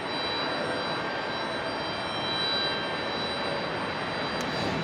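JetBlue jet airliner taking off from runway 25 left at Raleigh-Durham International, a steady broad engine roar heard from a distance, constant throughout with no voices.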